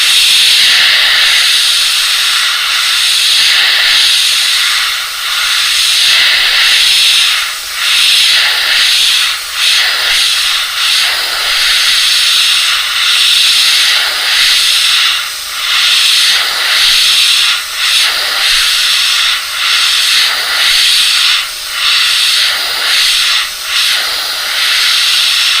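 An airbrush sprays paint onto a vintage 1970s bike during a restoration, a loud, continuous, close airy hiss that flutters slightly as the trigger is worked, with no talking.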